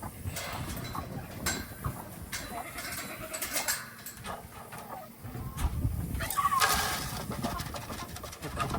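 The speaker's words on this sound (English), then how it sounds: "she's a really awesome goat" Farmyard animal sounds around a dairy goat being brought in for milking, with bleats and clucking chickens mixed with birds amid rustling and handling noise.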